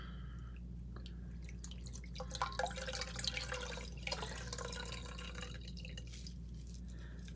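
Water runs and drips from a faucet into a sink while a face is being wetted, soft trickling and splashing over a steady low hum, moderately quiet and close, with no speech.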